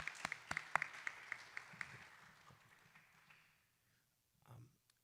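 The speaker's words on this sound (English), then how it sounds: "I want to give a round of applause to all the parents and players" Scattered claps at a girls' soccer end-of-year banquet, loud and distinct at first, then thinning into softer clapping that fades to near silence, with a brief low murmur near the end.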